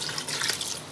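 Water pours steadily into a cooking pot of frying chicken, potatoes and peas, a close, continuous splashing rush lasting about a second.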